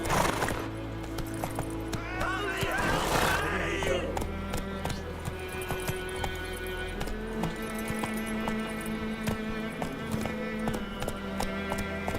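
Roach the horse in The Witcher 3 gallops with rhythmic clip-clop hoofbeats, opening with a sharp whinny, running steadily and close under a low game soundscape.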